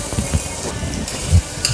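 Finely chopped big onions hiss and crackle as they hit melted ghee in a pan, a close steady sizzle with a couple of soft stirring thumps.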